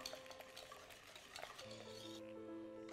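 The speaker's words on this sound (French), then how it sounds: "Et on remélange tout." Lemon cake batter being stirred again after fresh lemon juice is added, a soft continuous mixing scrape with faint utensil clinks against the bowl, steady and close.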